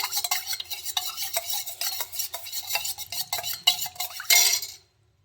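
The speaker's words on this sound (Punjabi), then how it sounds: "ਇਹ ਚਮਚ ਨਾਲ ਇਸ ਤਰੀਕੇ ਨਾਲ ਇਹਨੂੰ ਚੰਗੀ ਤਰ੍ਹਾਂ ਖੋਰ ਲੈਣਾਗਾ ਕਪੂਰ ਨੂੰ ਘੋਲ ਲੈਣਾਗਾ" A spoon stirs camphor into water, making quick rhythmic clinks and scrapes against the container, close and steady, before a final louder rattle and then silence.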